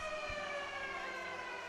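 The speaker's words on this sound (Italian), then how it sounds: "la sirena chiama il time out di Mr. Vati" A timeout siren sounds at a futsal match in an indoor Serie A2 Élite arena, a steady, fairly loud tonal blare with harmonic layers holding for the whole short stretch over faint hall background.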